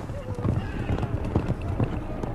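Horses clip-clop at a run with rapid, steady hoofbeats under a documentary narrator's voice on the Huns, with a faint whinny possible amid the busy rhythm.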